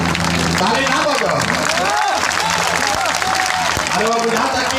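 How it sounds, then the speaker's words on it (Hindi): An audience at a rally for a politician's speech in his home district applauds in dense, steady clapping that fills the whole stretch. A voice carries over the crowd noise. "ताली ना बजो, ताली ना बजो।"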